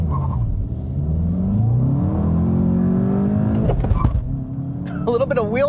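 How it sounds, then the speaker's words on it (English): A Volkswagen Jetta GLI with a 6-speed manual launching from a standstill in a 0 to 60 run, its engine note climbing steadily in pitch, breaking at a gear change, then pulling again, with a brief voice near the end. "let's go ahead and try a 0 to 60 test"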